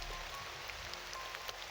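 Steady rain falling on a surface, a dense wash of soft patter with a few louder individual drops, heard alone without voices.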